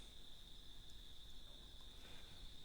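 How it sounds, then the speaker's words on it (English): Cicadas sing outdoors as a steady, high continuous drone, faint and unbroken, with a soft background hiss. "The cicadas are singing presence"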